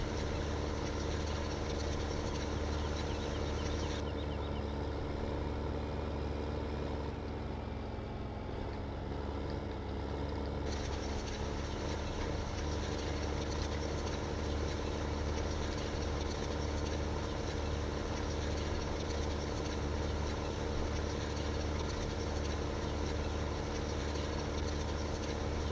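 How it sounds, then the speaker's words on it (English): A tractor engine in a farming simulator game runs steadily at moderate volume while pulling a load at about 19 km/h, a continuous mid-pitched drone with a brief dip in tone partway through, and no talk over it. "This tractor seems to pull this guy pretty good, 19 kilometers an hour."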